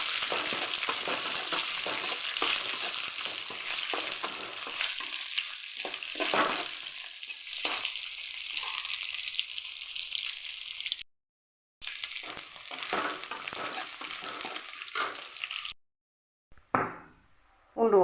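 Plenty of onions frying in hot oil in a pan on high heat, with a constant sizzle and crackle, stirring clatters and knocks, and brief silent breaks near the end.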